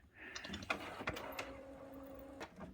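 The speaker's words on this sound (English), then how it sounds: "now I'm aligning the printer" HP 6520 inkjet printer running a print head cleaning or alignment cycle, with mechanical clicks and a steady whirring motor hum that drones for over a second before stopping, heard close and alone.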